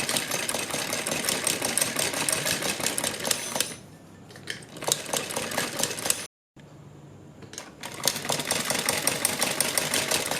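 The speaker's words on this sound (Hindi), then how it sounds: "यहाँ से हम सिलाई लगानी शुरू करेंगे।" A sewing machine stitches a lace border along the slit (chaak) of a kurti, whirring steadily up close, then falling quiet in two short pauses before running again, with no voices.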